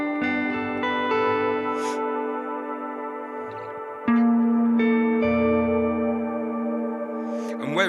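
Electric guitar played through a BOSS GT1000 harmonist effect with reverb and chorus gives sustained, layered chords with shimmering harmonized tones that ring out and change every few seconds, loud and alone.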